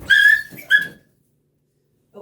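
A dog yips and whimpers indoors in two short high-pitched bursts, the first longer, followed by silence and a faint brief voice at the end.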